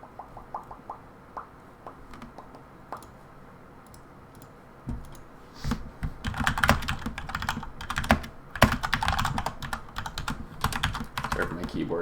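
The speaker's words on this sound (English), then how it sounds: "Sorry for my keyboard, it's really freaking loud." Loud mechanical computer keyboard being typed on in bursts of rapid clattering keystrokes, quieter and sparse at first, then dense and heavy through the second half, with a few faint clicks early on.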